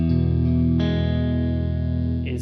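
Sustained distorted electric guitar chords through a Quad Cortex reverb, ringing out with a wide, washy tail, loud and steady throughout.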